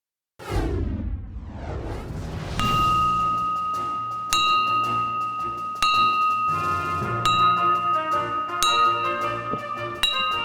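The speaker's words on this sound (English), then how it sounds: "The sound of 11 bells rung on the 11th hour of the 11th day of the 11th month" Eleven bells rung at a Memorial Day ceremony, marking the eleventh hour of the eleventh day of the eleventh month: loud, resonant metallic strikes at steady intervals, each ringing on and overlapping the previous toll.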